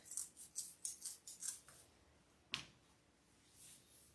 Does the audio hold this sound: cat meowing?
no